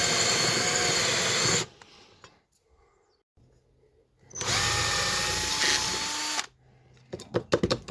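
A power drill with a 6.5mm bit whines loudly into a car exhaust heat shield in two long bursts separated by a quiet pause, followed by a few clattering knocks.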